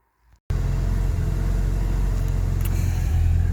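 A car engine running before it has warmed up, a steady loud low rumble that cuts in abruptly after a brief quiet moment and continues with slight unevenness.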